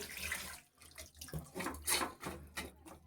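Water poured into a pressure cooker holding country chicken with salt and turmeric, a brief faint splashing and trickling stream with a short pause midway.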